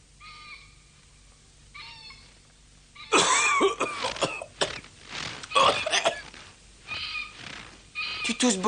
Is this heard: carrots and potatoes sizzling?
no